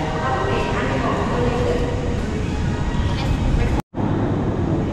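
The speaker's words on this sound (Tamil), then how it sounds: "ட்ரெயின் போயிட்டுருக்கு." A train on the Ba Na Hills route in Vietnam rumbles along steadily with broad, continuous rolling noise and rattling, loud and close, interrupted by a brief cut near the end.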